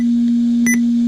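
A short high confirmation beep from a GT Power simulated RC engine sound system, heard once over a steady electronic hum from the unit.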